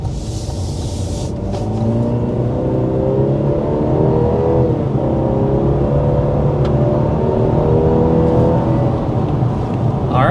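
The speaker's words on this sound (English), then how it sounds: "first we're going to go ahead and start with a hard acceleration" A 2025 Cadillac CT5 accelerates hard, its engine roaring steadily and rising in pitch for about ten seconds with a loud, continuous rumble and no talking.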